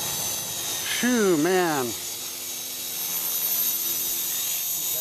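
A Trex-450 Pro RC helicopter, rebuilt and converted to flybarless, whines steadily overhead while a voice sweeps and warbles briefly and a man exhales near the mic.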